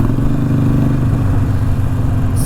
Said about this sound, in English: Gotta love the old air-cooled Evo motor.